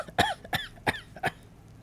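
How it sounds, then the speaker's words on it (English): A man's cough rings out four times in a steady series, each short harsh burst near and fairly loud, with brief quiet gaps between them and no talking. "How long have you had that cough?"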